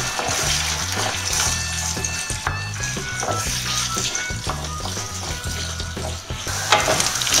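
Chopped onion fries in a pan with minced meat for navy-style macaroni, a loud, constant sizzle and crackle with light stirring, accompanied by a faint tonal background.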